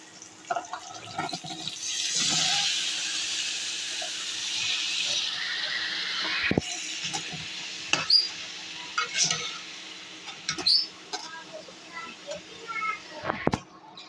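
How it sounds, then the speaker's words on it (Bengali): Curry stirred in a cooking pot makes a hissing simmer in the first half, followed by scattered scrapes and clinks of a utensil against the pot. A voice can be heard faintly in the background. "এই তো সব মিশিয়ে নড়াচড়া করে এখন ঢেকে দেবো।"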